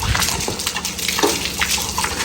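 Water is sprinkled and splashed by hand onto the ground at a house doorway in the early morning, coming as irregular wet splatters in quick bursts.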